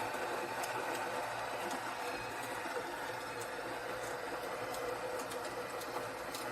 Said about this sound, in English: let's go ahead and just grind everything